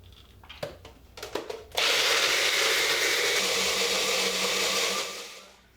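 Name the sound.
blender blending raw nut cheese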